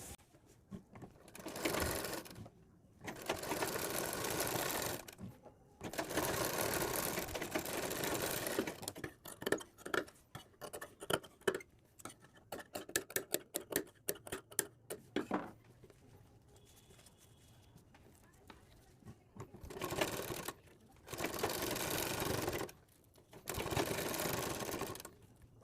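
Sewing machine stitching along a blouse neckline beside buckram interfacing, running in several sustained bursts of whirring with short pauses and a stretch of quick stop-start stitching.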